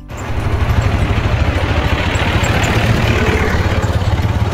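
A farm tractor engine starts and settles into a loud, steady idle, with a low rhythmic chugging pulse and light mechanical clatter close by, no speech.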